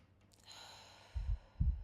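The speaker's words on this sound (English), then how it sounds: "So we're just going to start off with a nice big breath. So big inhale." A person takes a slow breath in and lets it out with two soft, close breathy exhales, quiet and unhurried, during a morning yoga flow.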